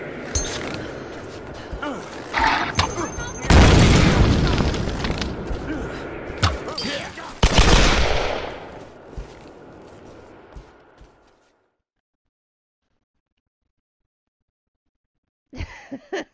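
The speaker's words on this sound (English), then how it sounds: "ran around the corner, and ran into his own bomb" Bursts of explosive blasts and gunfire crackle in a multiplayer video game, with two big booms a few seconds apart, then fading rumble and silence before a brief final clatter.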